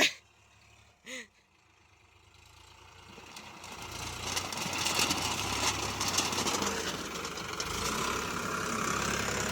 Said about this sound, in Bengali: ইঞ্জিনের ডাকই অন্যরকম আমার এই গাড়িটার